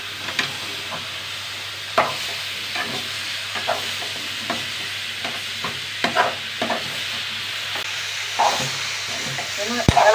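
About a kilo of chicken for a curry is stirred in a pan over a soft, continuous sizzle, with irregular scraping strokes and clinks coming every second or so, close and fairly quiet.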